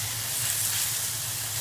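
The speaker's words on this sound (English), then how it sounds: "Now, the bean paste on a hot pan will release its flavor." Bean paste sizzling in a hot pan for a torn noodle stir fry, with the stove just switched off. A steady, close, broadband sizzle holds evenly throughout with a low hum underneath and no talking.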